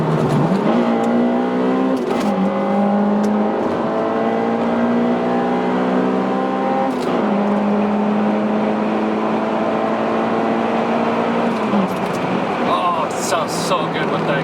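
An Acura RSX Type S with an aftermarket exhaust drones steadily while driving, its tone holding level before dropping and rising again through gear changes, close and loud with someone talking over it.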